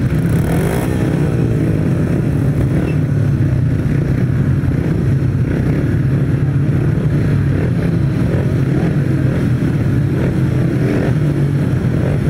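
Several motorcycle engines drone and rev together at a grasstrack race start, a steady, loud roar that holds throughout, with a brief burst of higher whine near the start.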